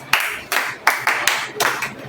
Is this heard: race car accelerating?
no